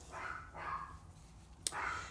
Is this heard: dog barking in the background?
yes